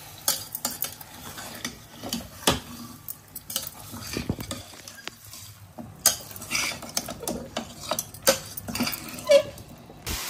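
Chicken stirred with masala in a pan for a pepper fry, heard as repeated close scrapes and clinks of a spoon against the pan over a faint background sizzle, in irregular bursts.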